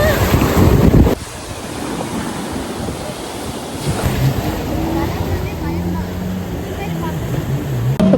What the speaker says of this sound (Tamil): கடல் இங்க இருக்கு.